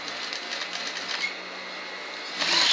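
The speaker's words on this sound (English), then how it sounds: "stitch it, back tack it," A sewing machine stitches and back tacks a besom pocket, a quick rattling run of needle strokes that pauses briefly and then surges louder at the end.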